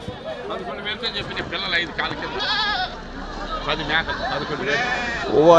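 Goats bleat repeatedly amid a busy crowd at a livestock market in Kadiri, their wavering cries rising over constant chatter and background bustle.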